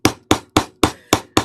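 A hammer strikes repeatedly while a drawstring satchel is being made, giving six sharp, evenly spaced whacks with quick decay, loud and close, with no talking.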